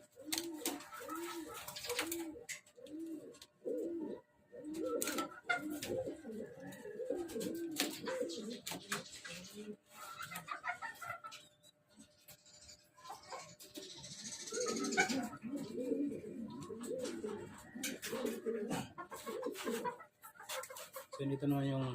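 Pigeons, including a Julian Janssen hen, cooing in a loft with soft throaty warbles repeating close by, mixed with someone talking over and between the calls.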